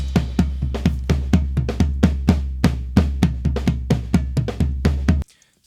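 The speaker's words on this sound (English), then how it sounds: "You can see that floor tom sounds like this." A floor tom drum is struck repeatedly in a fast, steady pattern, booming and resonant, then stops abruptly.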